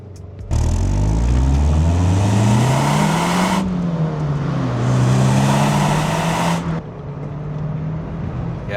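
A turbocharged car pulls away from a standstill in first gear, its engine note climbing steadily and loudly with a rising revving whine, easing briefly before continuing to build, then dropping off near the end.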